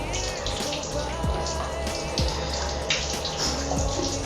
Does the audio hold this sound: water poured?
yes